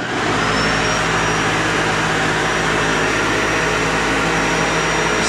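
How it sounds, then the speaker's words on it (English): A 1600-watt household vacuum cleaner runs loudly and steadily, a constant motor whine with a high-pitched tone holding throughout. "run a whole household vacuum cleaner?"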